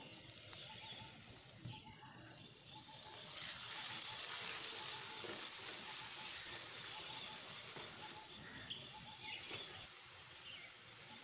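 Water pours into frying ghugni masala, a rising gush and bubbling hiss over the pan that swells after a few seconds and then settles into a softer simmering sizzle.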